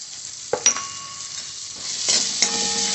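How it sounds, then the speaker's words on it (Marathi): Masala with cumin powder fries in a pan, a constant bright sizzle broken by a few clattering stirs of a spoon against the pan. "आता मसाला मस्त फ्राय झाला आहे."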